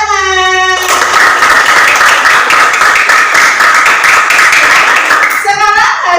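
Students clap together in a classroom, a loud sustained round of applause that starts abruptly and runs for several seconds, with a voice briefly heard at the start and end.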